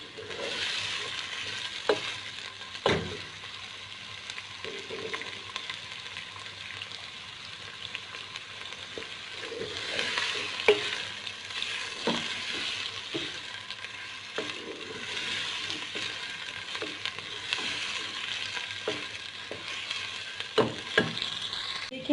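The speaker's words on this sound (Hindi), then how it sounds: "प्याज हमने डार्क ब्राउन करने हैं, तो हम इसे डार्क ब्राउन करते हैं।" Onions frying in oil until dark brown for a simple chicken biryani: a continuous close sizzle with scattered scraping and knocking strokes of a spoon stirring the pan, the sizzle steady throughout.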